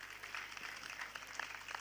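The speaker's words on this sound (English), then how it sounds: "A big round of applause for both of them." Audience applause at the closing ceremony of the International Environment Olympiad 2023, a steady patter of many hands clapping at a fairly faint, distant level for a couple of seconds.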